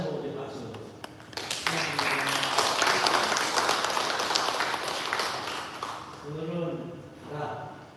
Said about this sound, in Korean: 두 분 다시 한번 우리 박수.